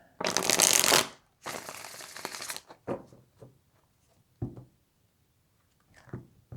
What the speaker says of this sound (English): Let me shuffle the cards here.